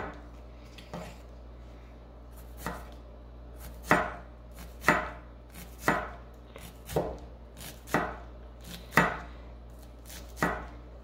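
A knife chopping onions on a cutting board, about a dozen sharp close knocks at an uneven rhythm against a quiet background.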